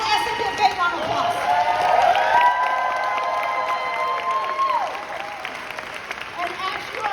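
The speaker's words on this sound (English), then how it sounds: "Can we give all the SAP a big round of applause?" An audience claps and cheers during a kung fu training event, a sustained wash of applause with raised voices and whoops ringing out over it, loud and fairly close before easing off toward the end.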